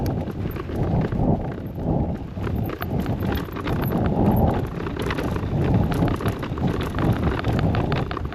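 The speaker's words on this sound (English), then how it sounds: "Got us some fucking horses" Horse hooves clip-clop steadily over rough ground, mixed with heavy wind buffeting the microphone.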